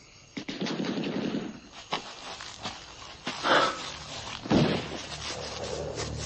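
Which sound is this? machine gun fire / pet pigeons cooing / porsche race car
machine gun fire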